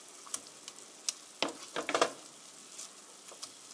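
Chicken steak frying in a pan with sesame oil gives off a light, uneven sizzle broken by scattered sharp crackles and pops, with a brief cluster of louder spatters in the middle.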